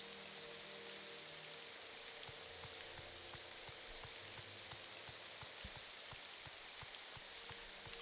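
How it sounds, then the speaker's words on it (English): Steady, even rain falls in the Elder Scrolls Morrowind video game, a soft constant patter on surfaces with faint scattered droplet ticks and no other sounds. "The rain volume sounds nice, though."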